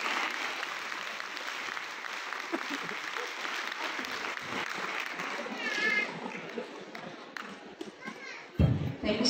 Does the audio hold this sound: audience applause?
yes